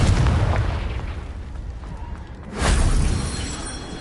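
A Confringo fire spell from Hogwarts Legacy explodes in a loud, broad boom that swells partway through and trails off over game background noise.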